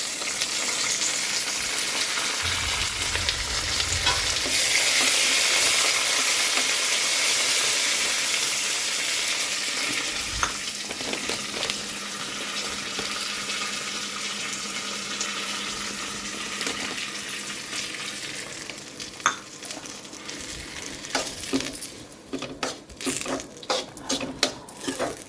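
Curry leaves frying in oil in a pan while upma is being made, a loud steady sizzle and crackle running throughout, with clatters and stirring knocks toward the end.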